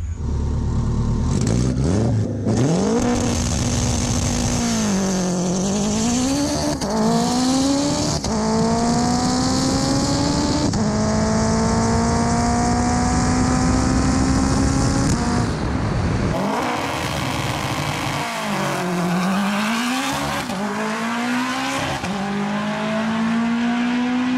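A 700HP all-wheel-drive Honda RSX with a stock 200,000-mile K20 engine screams through a drag pass, loud and close, its revs climbing and dropping sharply with each gear shift as the engine stays near full throttle throughout.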